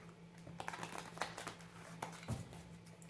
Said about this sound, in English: shuffle these real quick.